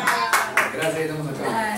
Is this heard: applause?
yes